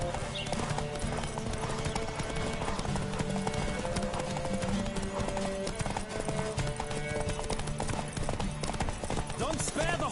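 Hooves of a galloping horse in The Witcher 3 drum in a fast, continuous clip-clop beneath game music, with a brief whinny, and a voice talks over it.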